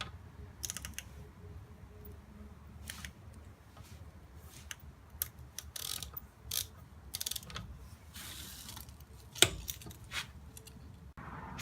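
A Harbor Freight torque wrench set to 40 foot-pounds gives a scattering of sharp, close mechanical clicks and ratcheting ticks over a faint background, with one louder click standing out near the end.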